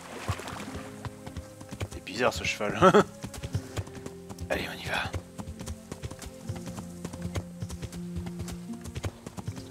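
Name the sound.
horse hooves clip-clop in video game Kingdom Come Deliverance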